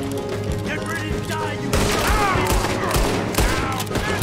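Rapid bursts of gunfire from a Red Dead Redemption 2 shootout, loud and dense, with overlapping shots and echoing tails filling the whole stretch.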